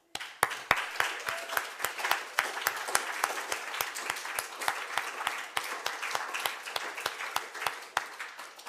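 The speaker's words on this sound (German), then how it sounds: "Unsere Techniker, für die möchte ich einfach ganz einen grossen Applaus" Congregation at a Salvation Army church service gives the technicians a big round of applause, fast, steady rhythmic clapping that runs continuously for several seconds with no talk over it.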